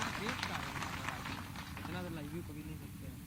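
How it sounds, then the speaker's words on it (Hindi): A crowd claps for party workers at a political rally in Rewa, where the Chief Minister is present. The dense applause fills the opening seconds, then thins as a voice begins speaking over it. "जोरदार तालियां बजा दो सभी कार्यकर्ताओं के।"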